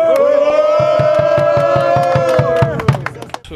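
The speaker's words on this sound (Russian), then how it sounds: "Болельщики спортивного клуба «Заря» в течение всей игры активно поддерживали своих фаворитов" Fans of the Zarya sports club at a football match chant in loud unison, a sustained sung tone punctuated by steady rhythmic claps or drumbeats, close and energetic, breaking off into scattered crowd noise at the end.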